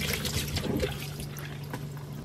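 A weak kitchen tap runs slowly while dishes are washed, a thin trickling, dripping stream of water with faint clinks, heard up close and without talk.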